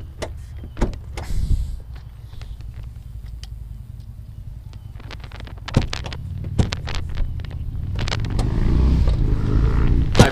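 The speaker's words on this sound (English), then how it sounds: "here I'm actually going to give you the full audio of my hood closing experience" A fiberglass hood on a Gen III Dodge Viper being lowered and shut, giving several sharp thumps and clunks over low rumbling wind and handling noise, with no talk.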